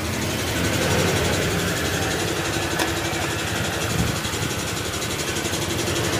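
A Honda Click 125 scooter engine with a suspected gasket problem, overheating and losing coolant, running close and loud with a steady buzzing idle and rapid mechanical vibration throughout.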